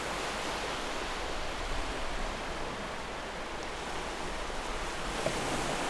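Strong tropical storm wind blowing at the sea in Jeddah, with surf and waves. A loud, steady broadband roar runs unbroken throughout, with no voices.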